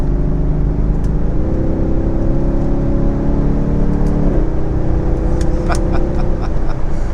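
Mercedes GLC 63 AMG SUV engine running with a steady loud drone and shifting pitch, rising and settling as it revs, with faint higher whirs near the end.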